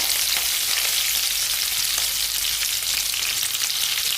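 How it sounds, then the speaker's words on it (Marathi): Mustard seeds splutter and crackle in hot oil in a pan for a Maharashtrian sanja, a dense continuous sizzle with scattered sharp pops, close and loud with no talking. "मोहरी थोडी तेल गरम झाल्यामुळं तडतडायला लागली"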